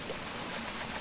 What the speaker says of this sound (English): Look at how nice the summer rain looks.